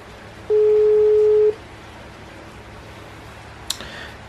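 A single one-second phone ringback tone sounds once while a call goes unanswered, followed by quiet room hiss and a brief click near the end.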